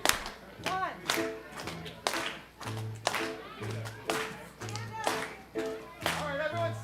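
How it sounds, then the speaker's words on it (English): Rhythmic hand clapping on the offbeat at a Shabbat service, about eight sharp claps evenly spaced, with voices singing between them. "Let's clap off the offbeat."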